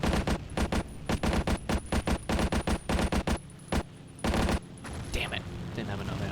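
Video game gunfire rattles in rapid automatic bursts, loud and close, with dense strings of shots broken by short gaps and a final quieter stretch.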